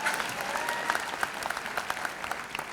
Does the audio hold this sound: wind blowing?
no